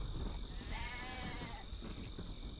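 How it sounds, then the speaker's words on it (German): A sheep in the god game Black & White 2 gives a single wavering bleat lasting about a second, faint above a soft ambient game backdrop. "das Schaf ist nicht krank. Es bekommt Junge."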